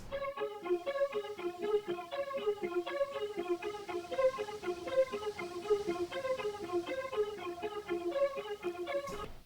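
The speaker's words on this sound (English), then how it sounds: "it starts out with this analog lab Mellotron sound, and it's just playing this simple motif" An analog lab Mellotron patch plays a simple, repeating four-to-one chord motif in steady, even notes. The tone is soft and sustained, with no voices throughout.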